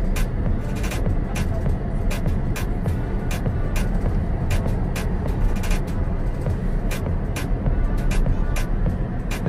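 Tesla Model S accelerating onto an expressway, heard from inside the cabin as a steady, dense road and wind roar that stays loud and even throughout, with no speech over it.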